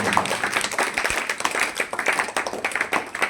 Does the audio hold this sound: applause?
yes